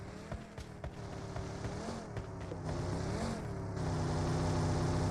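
A vehicle engine in the battle-royale game PUBG hums steadily, its pitch rising and falling as the car shifts speed, with faint clicks and rattles over a constant rumble.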